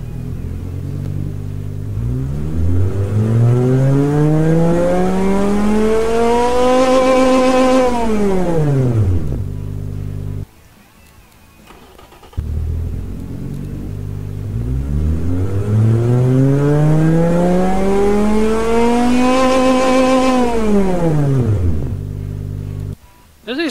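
A simulated five-cylinder engine in the Automation car game revs twice, each sweep climbing steeply in pitch to a loud peak and falling back, separated by a short quiet gap.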